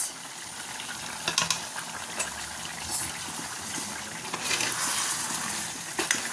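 A pot of chicken curry bubbles and simmers on the stove, giving a steady, close seething hiss with occasional louder pops, heard alone without talk.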